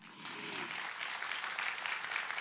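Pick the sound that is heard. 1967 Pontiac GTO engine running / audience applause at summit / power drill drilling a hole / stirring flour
audience applause at summit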